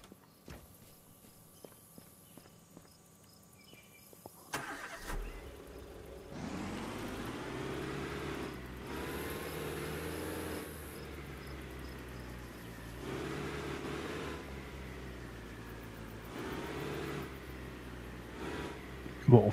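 A car in the management game Hotel: A Resort Simulator starts up and drives off, a steady engine drone with a low rumbling hum that rises after a quiet opening and holds throughout.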